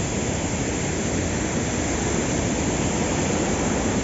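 Strong water flow at Ellewala waterfall, a steady, dense roar of rushing water, loud and unbroken throughout with no voices.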